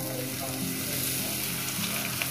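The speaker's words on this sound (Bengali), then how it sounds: "কয়েক সেকেন্ড ভেজে নিয়েছি, দেখুন বন্ধুরা।" Dried red chillies and whole spice seeds sizzle in hot oil in a pan, giving a dense, even frying hiss that runs the whole time with no talk over it.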